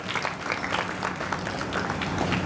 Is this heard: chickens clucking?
no